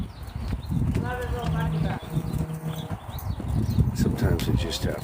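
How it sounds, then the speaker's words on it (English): A horse moves at a fast canter during a training session, its hoofbeats a steady rolling clip-clop that stays close and fairly loud throughout, with a voice heard over it at times. "He doesn't really canter, he goes really fast."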